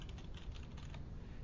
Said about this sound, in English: And I can go ahead and I can type my message